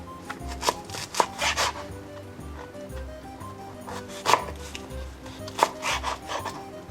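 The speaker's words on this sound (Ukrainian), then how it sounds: "Цибулю нарізаємо на півкільця не тоненько" Knife slicing onion into half rings on a wooden cutting board for a roasted vegetable salad, with irregular soft chops and rubbing scrapes under steady low background music.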